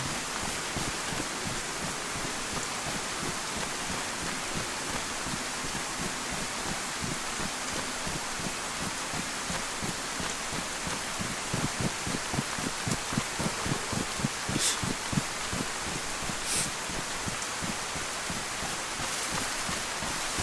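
Steady, dense rain in the video game DayZ hisses continuously as an even wash of noise, with faint pattering and no voices over it.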